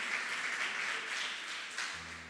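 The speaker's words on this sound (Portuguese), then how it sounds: "pode aplaudir" Congregation clapping during a sermon, a faint, distant wash of applause that runs throughout and ends with a low hum at the close.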